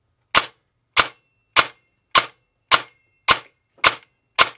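Eight sharp, evenly spaced single shots crack from an airsoft AEG rifle firing in semi-auto, each a crisp snap followed by silence, loud and close with nothing else heard.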